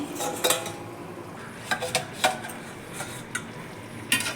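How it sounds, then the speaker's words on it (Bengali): A lid is lifted off a pot of spiced hand-mixed mourala fish chachchari with potato, giving sharp metallic clinks and clatters of the lid and utensil against the pot over a faint background simmer. "ঢাকনাটা খুলে একবার দেখে নিই।"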